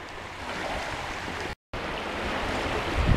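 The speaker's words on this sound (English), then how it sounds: "Listen to that ocean." Ocean surf washes onto a scenic beach at Cape May, a steady broadband rush of waves with light wind, loud and continuous apart from a brief cut midway.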